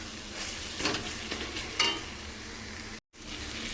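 Spice masala sautéing in a pan with dried fenugreek leaves (kasuri methi) added, a soft steady sizzle with a few stirring scrapes, fairly quiet and without talk.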